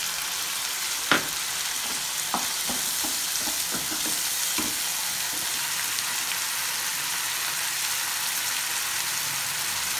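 Mutton sizzles steadily in a pan with chilli powder, cumin and coriander powder, while a spoon scrapes and clicks through it in a run of sharp strokes, loudest early on, over a constant close frying hiss.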